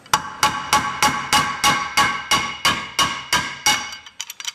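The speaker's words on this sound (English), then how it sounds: "hit them with a hammer," A hammer strikes metal brake hold-downs on a GMC 7000 truck about a dozen times in a steady rhythm, loud and close with ringing tails, then a few lighter quick taps.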